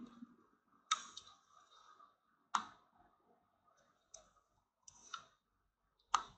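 A computer keyboard clicks in a quiet room, with a few sharp, isolated keypresses including the enter key, spaced about a second or more apart, close and distinct with no talking.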